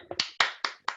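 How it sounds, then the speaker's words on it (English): Just a few hand claps during an online science journalism award ceremony, sparse and close, five or so sharp separate claps in about a second with no crowd behind them. "A round of applause anyway."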